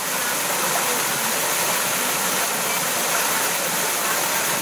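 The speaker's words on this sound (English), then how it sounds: "Waterfall." A waterfall on the Aotea Track, Great Barrier Island, roars as a loud, constant broadband rush that fills the whole clip without a break.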